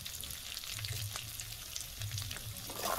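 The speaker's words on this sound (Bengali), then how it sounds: "ফোড়নটা একটু ভালো করে ভেজে নেব" Dried red chillies, bay leaf, whole garam masala and cumin seeds fry in oil for tempering, giving a soft continuous sizzle with faint popping and a low bubbling undertone, quiet and steady without talk.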